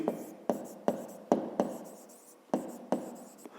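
Pen strokes writing out a fifth-grade maths solution on paper, a series of about eight sharp scratchy taps and short scrawls in an irregular rhythm, close and quiet, with no talk.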